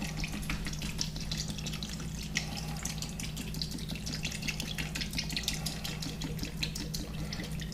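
Crab and shrimp bait fuel streams out of a bottle onto pellets for spot prawn bait, a steady close splashing and trickling pour that runs without a break.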